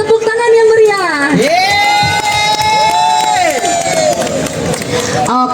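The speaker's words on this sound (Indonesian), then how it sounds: "Mungkin sekali lagi kita berikan tepuk tangan yang meriah." A crowd at the national consumer day event in Indonesia claps and cheers after a performance, with high shouts and whoops rising over the clapping and staying loud throughout.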